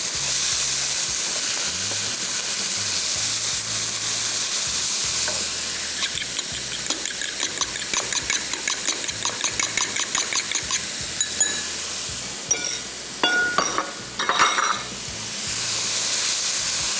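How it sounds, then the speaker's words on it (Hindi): Chicken fries in a pan for a creamy chicken pie, giving a steady loud sizzle with bursts of crackling spatter and a few scraping stirs. Nobody speaks. "चिकन को तकरीबन 5 से 6 मिनट पहले फ्राई करेंगे"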